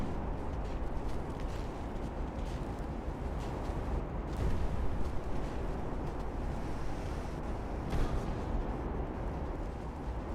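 Naval shells firing and splashing down in the Ultimate Admiral: Dreadnoughts game, a dense rumbling wash of distant booms and surf-like roar with a couple of sharper thumps, steady throughout.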